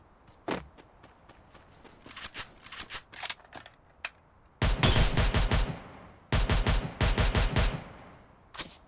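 Gunfire rings out in Free Fire mobile, first scattered single shots and footsteps, then two loud rapid bursts of automatic fire close by, with no talk.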